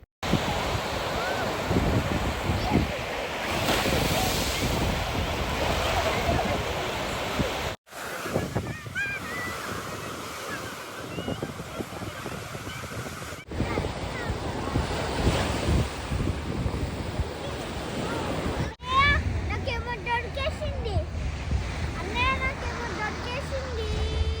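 Waves surging onto a beach during a family outing, a steady wash of surf mixed with gusty wind buffeting the microphone, continuous and fairly loud throughout, with voices and the sounds of people at the water's edge in places.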